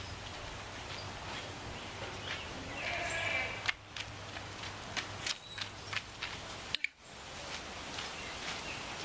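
A one-year-old Nubian baby goat bleats at an outdoor goat and sheep show, faint and distant calls over a hum of background noise, with footsteps and some rustling nearby.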